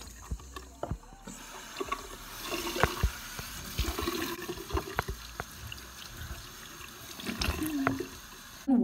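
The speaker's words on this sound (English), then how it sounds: "I'm washing my face." Running tap water at a bathroom sink, mixed hot and cold, while someone washes and rinses their face, with faint irregular splashes and trickles at close range and no talk.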